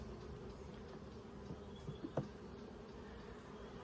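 Honey bees buzz steadily around an open hive while a brood frame is being moved from a nucleus box into a full hive, a low continuous drone with a few brief knocks, fairly quiet.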